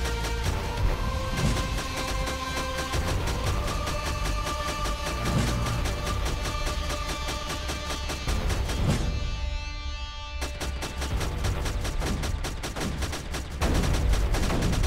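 Rapid, repeated booming cannon shots in Creeper World 3: Arc Eternal over a dense, continuous music-like background, loud and sustained throughout with a brief dip near the end.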